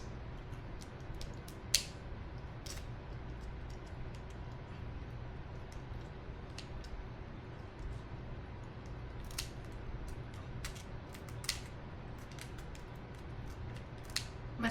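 Scissors snip through seafood shell during a mukbang meal, a series of faint, sharp crisp clicks spaced irregularly over a quiet, low background hum.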